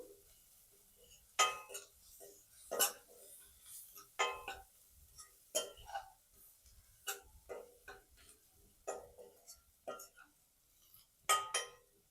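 A spoon clinks and taps against a bowl while chili powder, salt, chat masala and garam masala are mixed, with irregular sharp metallic hits spaced a second or so apart over a quiet background.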